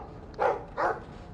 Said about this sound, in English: Silly dog.